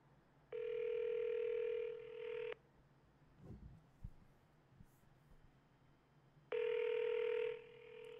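A telephone ring tone plays twice, about two seconds each with a long pause between, while a call waits to go to voicemail; soft handling noises fill the gap, with no talking.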